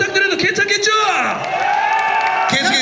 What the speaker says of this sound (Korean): 앵콜곡인 만큼 여러분들 더 뜨거운 박수와 함성 부탁드려도 괜찮겠죠?